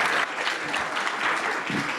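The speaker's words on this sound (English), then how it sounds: "Give them a warm round of applause." An audience claps for a panel discussion on cannabis policy at an event in Cincinnati, a dense, steady wash of applause filling the room at moderate volume without a break.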